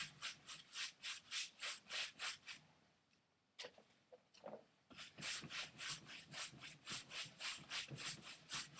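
A brush or rag rubs burnt sienna glaze over a landscape painting in rapid, steady back-and-forth strokes, close and fairly quiet, pausing briefly midway before resuming.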